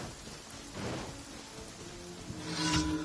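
Rainfall in the video game Genshin Impact, a steady, fairly quiet hiss of rain with low rumbling swells and some faint game tones mixed in.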